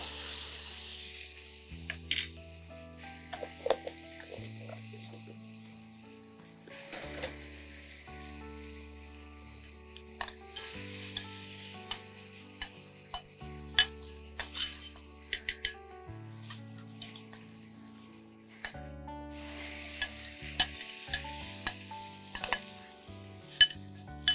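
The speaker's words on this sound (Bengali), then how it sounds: "এবারে একটু সময় নিয়ে কষতে হবে" Mutton curry slowly sautéing in a pan, a steady soft sizzle with frequent sharp clinks and scrapes of a spoon stirring against the metal, close and fairly quiet, with no talking.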